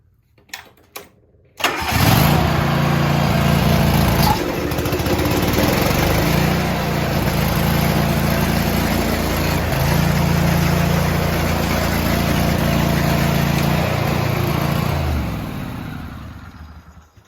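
A John Deere tractor's snow thrower engine catches after a couple of brief clicks and runs loud and steady with a droning mid-pitched hum for most of the stretch, fading near the end; no talk.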